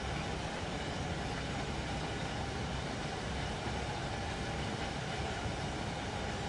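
A Freightliner freight train rolls past in Train Sim World 5, a steady dense rumble of wheels and wagons holding at an even level throughout, with no voices.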